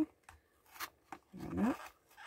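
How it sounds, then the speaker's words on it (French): A letter opener slits an envelope at close range: a few faint taps and rustles of paper, then a brief louder tearing, scraping slice, quiet overall. "Je vais prendre mon outil à ouvrir les enveloppes."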